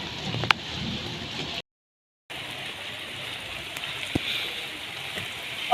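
Heavy rain pours steadily over a home kitchen garden, a dense, even hiss broken by a brief moment of silence, with a few sharp drip knocks and no speech.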